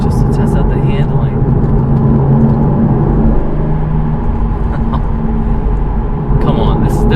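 A 2013 Porsche Boxster with a 6-speed manual drives on the road, its engine producing a steady, close, loud rumbling drone heard from inside the car along with road noise.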